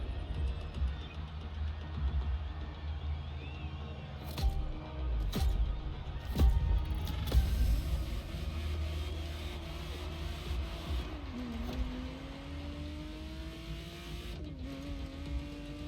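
Ferrari Testarossa engine in The Crew Motorfest: a low engine rumble with a few sharp clunks and taps, then the revs rise in two climbing sweeps toward the end, moderately loud.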